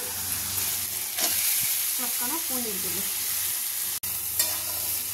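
Paneer stirred and fried in mustard oil with half-fried onions and chillies in a pan, a steady close sizzle with scraping stirs running throughout, and a brief spoken phrase midway.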